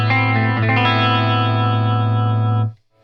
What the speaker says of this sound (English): This is chorus. So this is going to have a doubling effect.